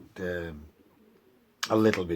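Racing pigeons cooing inside a loft, two separate soft throaty coos with a quiet pause between them, heard close up.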